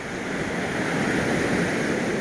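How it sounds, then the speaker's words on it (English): Sea waves wash up on a Koh Samui beach after rough weather, a continuous broad surf roar with some wind noise, close and steady throughout. "The seas have calmed down quite a bit. They're still high on the beach."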